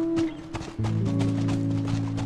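Horse hooves in the video game The Last of Us beat in a quick, steady rhythm of sharp thuds over sustained tonal music, fairly loud and close, with no speech.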